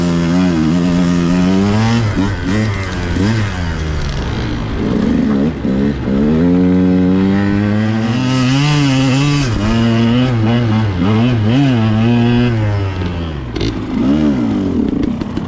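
A dirt bike's engine revs hard while it rides through snow, a loud, close, continuous buzzing roar that repeatedly climbs and falls in pitch as the throttle is worked, with no speech.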